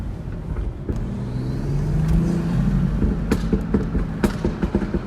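A BMW M340i idles with a deep rumble and revs, its exhaust giving off a series of sharp pops and crackles near the end.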